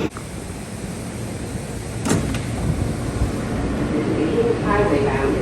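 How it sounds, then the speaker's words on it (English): New York subway F train pulling into Smith 9th Street station: a rumbling, building train noise with metallic screeches and rising whine toward the end, a sharp clank near the middle, continuous and close. "we're going to be going on the next F train, which is just pulling in now"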